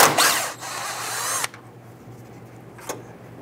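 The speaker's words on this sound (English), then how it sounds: "Use your 8mm socket, loosen and remove that bolt." A power ratchet or socket tool whirs loudly for about a second and a half while loosening the 8mm bolt on the radiator bracket of a 1994-2004 Ford Mustang, then stops, followed by a quiet pause and a brief click.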